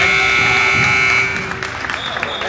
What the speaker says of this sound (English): And Devlin tried to steal right at the buzzer